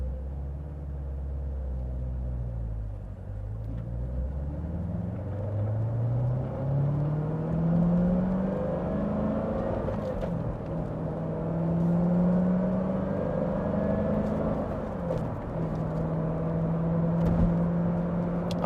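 A 2016 Chevrolet Corvette Z07 with the Ultimate Performance Package drives and accelerates, its engine rumbling low and rising in pitch through repeated gear changes, loud and steady from inside the car with no talk.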